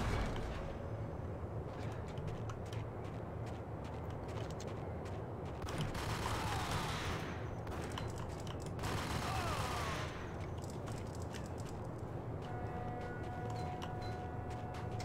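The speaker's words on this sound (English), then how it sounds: "that is me being shot at" Gunfire in the video game Max Payne, played in VR, with rapid volleys of shots crackling in bursts, loudest in two dense stretches mid-clip, over a continuous low background.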